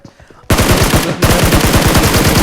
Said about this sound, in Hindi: मैं बस मारे जा रहा गोलियाँ।